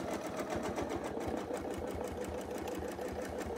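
A sewing machine stitches steadily during ruler-work quilting, sewing spirals and straight lines with a fast, even needle rhythm that runs unbroken and close throughout.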